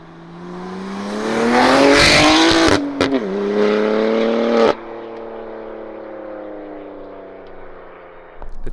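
A BMW G87 M2 fitted with a full titanium exhaust revs hard, its engine note climbing and holding loud for about three seconds, then a brief blip and a steadier high-rpm drone that settles into a lower idle-like hum.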